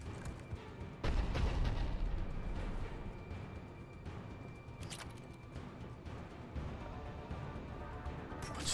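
Shotgun blasts in the video game Mass Effect 3 land as a few heavy, booming shots at irregular gaps, the strongest early on, over steady combat din and rumble.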